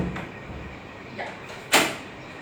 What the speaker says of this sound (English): I will close the door and come.